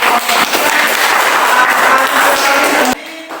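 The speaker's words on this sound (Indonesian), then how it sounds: "Tepuk tangan untuk" Dense applause from students in a classroom, loud and steady for about three seconds, then cutting off abruptly into near quiet.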